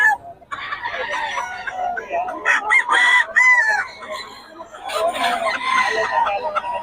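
Several gamecock chickens cluck and a rooster crows nearby, with a voice talking briefly among the birds.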